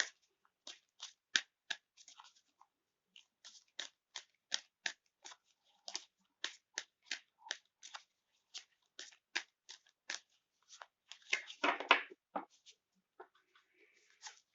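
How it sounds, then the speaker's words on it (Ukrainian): Dozens of crisp, quick card snaps and flicks, close and fairly quiet, in an irregular rhythm with a brief shuffling rustle near the end. "я буду класти типу, по три карти на кожну на кожну дату"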